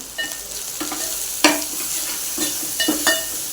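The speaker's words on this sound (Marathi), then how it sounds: "हे चांगलं परतून घ्यायचं" Sprouted mung bean curry with red chilli powder, salt and spices sautéing in a pan, a steady sizzle broken by several sharp scraping stirs of a spoon against the metal, close and fairly loud, with no voices.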